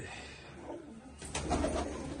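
Soft, low pigeon coos rise briefly over a faint background hum, a short murmuring call near the end.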